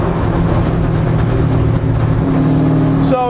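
The Ford Racing 302 V8 of a 1989 Mustang American Iron race car with a roll cage and no interior holds a loud, close, steady throaty rumble, then snaps into a quick rising rev at the very end.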